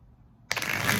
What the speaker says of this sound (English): hard shuffling deck